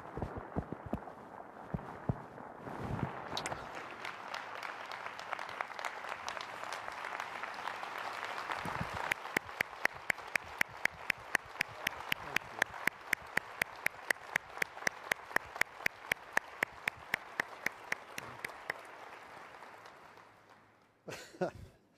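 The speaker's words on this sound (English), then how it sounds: "It's good to be applauded before you even come up to speak." Audience applause at a rabbi's address during a large Jewish convention gathering: sustained, dense clapping from a big crowd for about twenty seconds, then a sharper, more rhythmic stretch of individual claps, fading out at the end.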